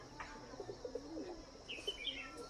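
Pigeons offered for sale make soft, low cooing calls, several short murmuring coos spread across the moment with a faint chirp and light rustle near the end, moderately close but quiet.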